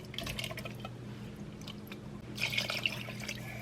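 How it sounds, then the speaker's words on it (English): Canned chicken breast and other canned goods are tipped into a pot undrained, giving soft wet glugs, drips and squishy splashes, a steady low liquid patter that swells into a brighter splash near the end. "we're gonna add our chicken breast in with its water, and then just start adding in all your cans"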